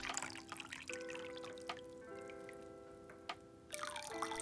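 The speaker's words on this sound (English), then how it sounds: "fill it up with water and test how long it takes to flow out the" Water runs out of a small gauge hole punched in a can, a quiet trickle with faint drips that continues steadily and softly throughout.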